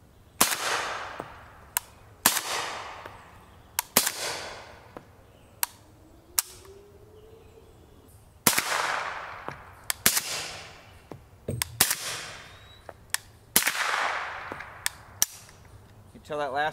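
Subsonic 7.62x39mm Detroit Ammo 220gr lead round-nose rounds fired one at a time outdoors, about nine sharp reports at a slow, uneven pace, each followed by a short fading ring, with faint ambient noise between shots.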